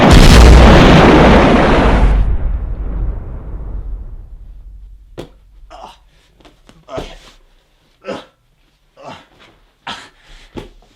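An exploding comb blast from the Bond film Die Another Day: a loud, close boom with rumble that decays over about three seconds, then gives way to scattered speech.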